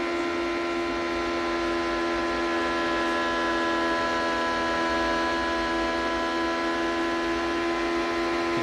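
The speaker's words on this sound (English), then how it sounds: "You can hear the engine running so strong right now." A Chevrolet Gen 4 IndyCar engine at full throttle on the Texas Motor Speedway oval in 2003, a steady, sustained high-pitched drone holding constant pitch throughout, with no talk.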